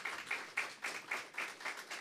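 A small lecture audience claps for a speaker: faint, evenly spaced claps, about eight in two seconds, in a slow steady rhythm that reads as a single person or a few people clapping.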